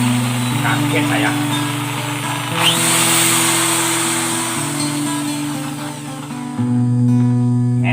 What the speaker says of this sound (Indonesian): Kita coba yang bor.